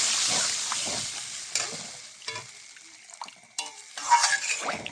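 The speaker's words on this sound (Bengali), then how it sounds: "এবার জল দিয়ে দিলাম, জল দিয়ে নেড়ে নিলাম।" Water poured into a simmering fish and potato curry in a pot and stirred, with liquid splashes, scraping spoon clinks and a low bubbling hiss coming in short bursts, close and fairly quiet, with no talk.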